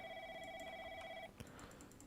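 A telephone ringing in the Roblox horror game Piggy, a steady electronic tone held for a little over a second before it abruptly cuts off, followed by a soft click and faint ambient hum.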